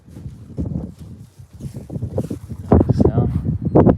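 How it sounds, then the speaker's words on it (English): Strong gusts of wind buffet the microphone outdoors around an old 1965 Scotty camper trailer, roaring in uneven bursts while someone talks throughout. "That wind is crazy"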